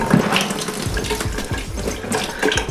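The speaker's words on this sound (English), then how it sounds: "don't even worry about getting the dirt off, just get them wet" Running water from a tap splashing over dirty RC off-road tires to wet them, a steady close gush with irregular splatter and no voices.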